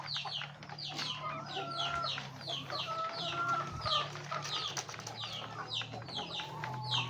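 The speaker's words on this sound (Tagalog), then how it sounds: "So ito yung mga manok ko" Many chickens cluck and chatter continuously at close range, with a steady low hum in the background.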